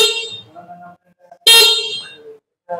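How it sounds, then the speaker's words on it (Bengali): An electric sports e-bike's horn sounds in two short, bright honks separated by a pause, close and loud, with the start of a third at the very end. "দুই পাশে দুইটি হর্নের সুইচ রয়েছে, যার জন্য আপনি সুন্দরভাবে হর্ন চালাতে পারবেন"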